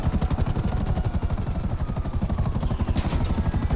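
A helicopter in the GTA Online video game flies with a fast, steady rotor chop, close and loud throughout, with a brief burst of game noise near the end and no talk.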